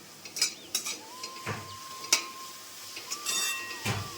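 Grated bottle gourd roasts in ghee for kheer while a spoon stirs and scrapes the pan in quick repeated strokes over a soft sizzle. A faint tonal hum sounds in the background.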